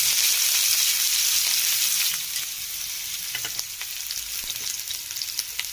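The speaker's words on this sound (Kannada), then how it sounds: "ನಾನು ಇವಾಗ 2-3 ಟೇಬಲ್ ಸ್ಪೂನ್ ಆಯಿಲ್ನ ಹಾಕ್ತಾ ಇದ್ದೀನಿ. ನೆಕ್ಸ್ಟ್ ಇವಾಗ ನಾನು ಇದಕ್ಕೆ ಈರುಳ್ಳಿನ ಹಾಕ್ತಿದ್ದೀನಿ." Chopped onions dropped into two to three tablespoons of hot oil in a heated pan, a loud, dense sizzle that eases after a couple of seconds into steady crackling and popping, heard close with no voices.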